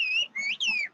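A person whistles a traditional whistled language: three long, loud, sliding whistled phrases with short gaps between them, heard alone with no talking.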